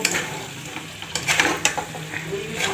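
Spatula stirring food frying in a pan on a home stove, scraping and sizzling in uneven bursts, close up with no talk.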